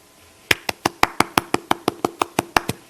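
A church congregation at Suwon Onnuri Vision Church claps in a steady, evenly spaced rhythm: about a dozen crisp, close claps after a brief quiet start, with no voices.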